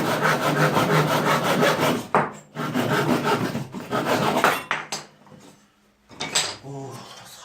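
Hemlock timber is cut by hand with a saw in close, rhythmic rasping strokes. Two steady bursts of sawing are followed by quieter, broken strokes and brief pauses.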